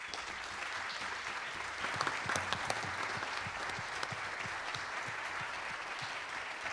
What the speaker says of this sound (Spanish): Un aplauso para Ricardo Quiroga.